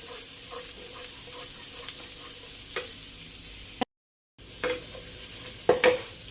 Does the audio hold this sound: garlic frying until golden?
yes